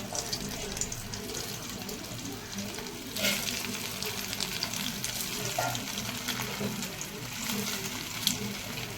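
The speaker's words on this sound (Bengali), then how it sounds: "আমি তেলটা আগে গরম বসিয়েছিলাম গরম হয়ে গেছে আমি এবার ছেড়ে দিচ্ছি তেলে" Pomfret fish pakoras frying in hot oil, giving a moderate, continuous bubbling sizzle with a brief louder surge and a few small clicks, close by.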